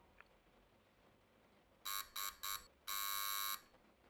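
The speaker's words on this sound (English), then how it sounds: "Just hit the buzzer 4 times when you're" A door buzzer is pressed four times, three short harsh electronic buzzes in quick succession followed by one longer press, loud against a quiet room.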